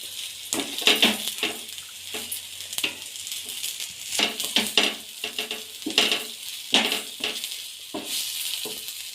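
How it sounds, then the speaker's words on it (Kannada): Spinach veg kabab patties frying in oil in a home kitchen pan until golden brown, with a steady close sizzle broken by repeated scraping and clinks of a utensil against the pan. "ಎಣ್ಣೆ ಹಾಕಿ ಗೋಲ್ಡನ್ ಬ್ರೌನ್ ಆಗೋವರೆಗೂ ನೀಟಾಗಿ ಬೇಯಿಸಿ"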